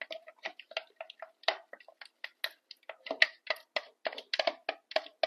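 Face cream being stirred in a container, heard as a run of close, crisp little clicks and soft wet taps in an irregular quick rhythm, with no talk.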